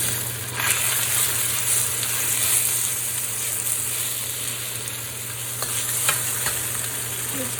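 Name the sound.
stir-frying shredded chicken and kohlrabi in a wok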